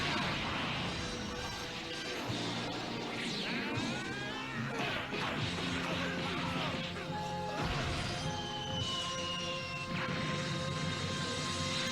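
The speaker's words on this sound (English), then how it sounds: "And he gets smashed in the face with a rock." A rock smashing into a fighter's face in an anime battle between Majin Vegeta and Goku, heard as loud crashing impacts and whooshes within dense, continuous fight-scene noise and music.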